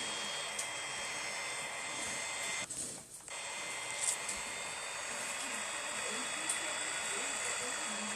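A Cessna 208 turboprop engine in the Infinite Flight simulator drones with a steady faint hiss and hum on departure, with a brief dip partway through.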